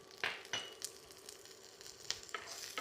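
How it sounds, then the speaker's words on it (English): Chopped red onion sizzles in olive oil in a fry pan, a continuous close hiss punctuated by several brief scraping stirs of a utensil. "We're just going to fry that for a little while."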